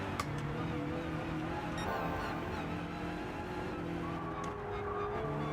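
A race car in Gran Turismo 7 runs through gravel, with a loud steady engine drone and a gritty rumbling texture holding throughout, plus a few brief sharp ticks.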